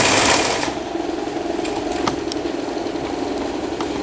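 A sewing machine stitching the hem of a shortened t-shirt, running as a steady close mechanical whir with a faint rhythmic needle chatter and a few light clicks.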